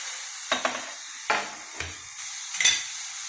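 Radish being sautéed in oil in a pan, with a few sharp scraping stirs of a spoon spaced apart over a steady soft sizzle, close by.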